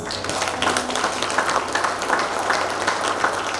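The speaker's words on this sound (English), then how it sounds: "Ladies and gentlemen, please, a big round of applause." Steady applause from a crowd, many hands clapping continuously with no pauses, fairly loud and filling the space.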